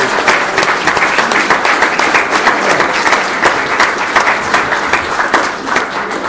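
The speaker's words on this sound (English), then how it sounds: "let's get a round of applause." Steady, loud applause from a large crowd at a public discussion event, dense clapping sustained evenly throughout with no voices standing out.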